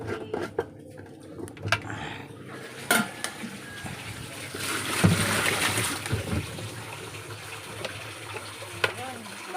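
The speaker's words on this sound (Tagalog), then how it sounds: "Sige ma'am, buhusan mo ng tubig ma'am." Water is poured from a container into a sink during a home plumbing repair, a sustained splashing pour with scattered knocks and clatters nearby.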